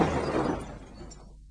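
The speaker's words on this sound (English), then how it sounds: "This is the sound of a car crashing into a parked car at 30 miles an hour." A car slams into a parked car at 30 mph, one sharp crash of crumpling metal and shattering glass that bursts out loud and then trails off into falling debris within about a second.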